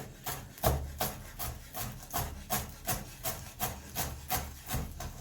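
Knife chopping parsley finely on a clean cutting board, a steady series of about a dozen crisp, evenly spaced blade strikes against the board, close and moderately loud with no talking.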